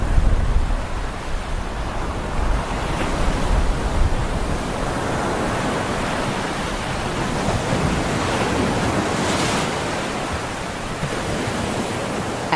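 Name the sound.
powerful ocean waves breaking on rocks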